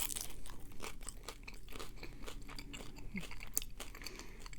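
Someone bites and chews a crunchy Jack in the Box baby taco without guacamole, close to the ear: repeated sharp crunches that settle into steady chewing.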